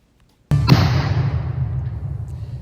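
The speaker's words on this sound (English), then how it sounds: "that explosion was controlled and intentional" A grenade-type explosive device is set off in a controlled underwater blast: one sudden loud thump at the start, followed by a long rumbling roar of churning water that slowly fades, with no voices.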